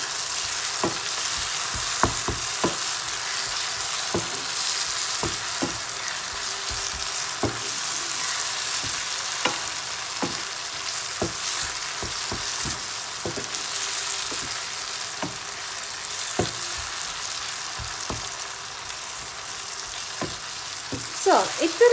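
Chicken for a Kerala-style nadan chicken curry fries in a pan with a constant loud hiss, while a spoon taps and scrapes the pan in a steady stirring rhythm throughout.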